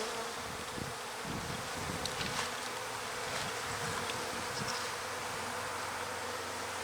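A softball-sized cluster of honey bees on a brood frame gives off a soft, steady buzzing drone, faint and continuous with no voices.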